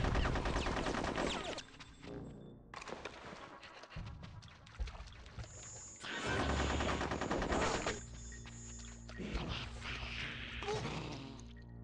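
Rapid gunfire from Conker's Bad Fur Day, loud bursts of shots and crashing impacts in several clusters with short gaps, game music and effects layered around them.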